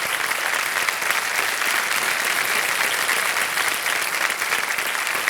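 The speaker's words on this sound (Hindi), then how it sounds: "ताली बज जाए इनके लिए।" Audience applause on a TV quiz show set, a steady, dense wash of clapping from a studio crowd that continues without a break.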